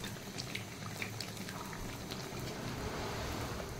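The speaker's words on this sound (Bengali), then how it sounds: "ডুব ডুব ফুটছে" Malpua batter frying in hot oil gives a steady, dense bubbling and sizzling that runs throughout, close and fairly loud, with no voices over it.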